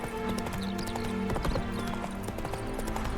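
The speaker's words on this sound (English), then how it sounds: "Spooking my horse. Roach doesn't like ghosts." In The Witcher 3: Wild Hunt, a spooked horse whinnies and neighs while its hooves clip-clop nearby in an uneven rhythm, fairly faint and with no talking.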